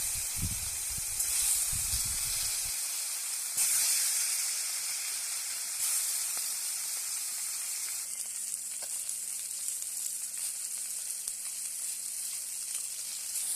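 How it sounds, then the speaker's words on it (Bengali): Pieces of rohu fish fry in hot oil, a continuous close bright sizzle and hiss that stays steady throughout, with faint low bumps early on. "প্রথমে মাছগুলো ভেজে নিচ্ছি।"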